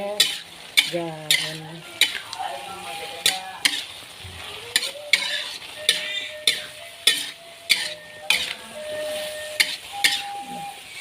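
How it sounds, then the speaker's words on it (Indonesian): Broccoli is tipped into a hot pan for Betawi-style capcay and stirred, giving a steady sizzle with repeated scraping spatula strokes, while a voice talks intermittently. "Kurang lebih 2 menit kita tuangin brokolinya"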